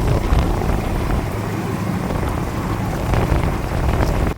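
Heavy rain from a nor'wester storm pours onto an open river in the Sundarbans, a dense, continuous roar of drops with gusting wind and a low rumble beneath.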